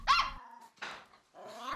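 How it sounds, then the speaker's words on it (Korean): A dog barks repeatedly indoors at windows and window frames rattling in the wind. Three loud, harsh bursts come in quick succession, close to the listener, with a growling edge. "그럴 때는 강아지가 계속 쉬지 않고 짖어요"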